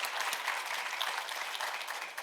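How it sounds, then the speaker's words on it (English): Steady applause from the audience at a Springfield Township trustees meeting, honoring a group of young ladies from the Kids Fire Academy; dense, even clapping that runs the whole way without a break. "give them another round of applause"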